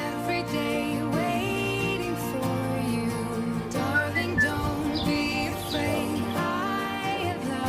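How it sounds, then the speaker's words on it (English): Sweet, high chirps and whistled tweets come from a newly hatched bird, with varied melodic calls repeating over a steady, dense background of tones. "Such a sweet bird."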